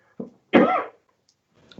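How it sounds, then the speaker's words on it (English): A single person clears their throat: a short rasp, then a louder, harsher burst, close and fairly quiet in an otherwise silent room. "I have to clear my throat"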